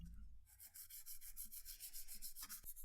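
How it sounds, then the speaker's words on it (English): A vintage Omega Seamaster watch crystal is sanded with 2000 grit sandpaper, a rhythmic, quiet scratchy rubbing in quick repeated back-and-forth strokes, close up and alone. "making sure we are sanding the whole surface of the crystal"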